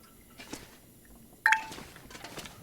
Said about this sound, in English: I'm really sorry if you can hear the notifications